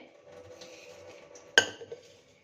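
A pressure cooker being picked up and set down in a home kitchen, giving one sharp metallic clank with a brief ringing tail, followed by a few softer knocks over low background hum.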